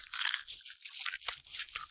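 A close bite into a MrBeast Deez Nuts crunch candy bar gives a loud, dry crunch that breaks into several sharp crackles over about two seconds.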